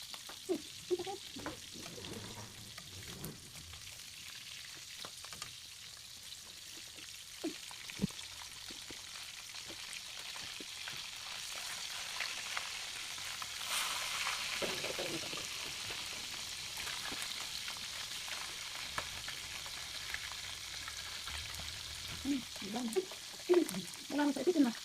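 Fish steak sizzles and crackles steadily in hot oil in a pan, with occasional pops and faint clatter of utensils.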